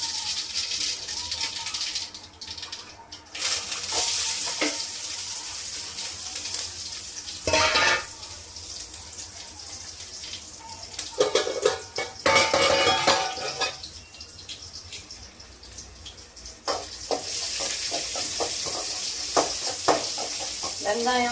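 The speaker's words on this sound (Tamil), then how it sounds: "கருவேப்பிலை போட்டு தாளித்து பழைய சாப்பாடு." Onion, dried red chili and curry leaves tempering in hot oil, a steady close sizzle with bursts of crackling and stirring, under occasional talk.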